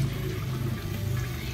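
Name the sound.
lukewarm water poured into frying masala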